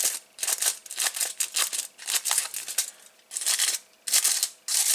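Scissors snip and crinkle through tin foil in short bursts, cutting slits, several crisp cuts separated by brief pauses, close up.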